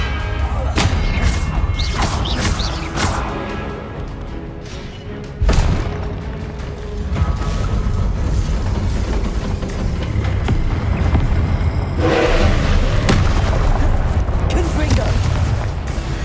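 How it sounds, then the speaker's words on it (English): Expelliarmus disarming spells cast in Hogwarts Legacy: repeated magical whooshes and bursts with a heavy boom near the middle, loud over dense game ambience, with a voice present. "Expelliarmus."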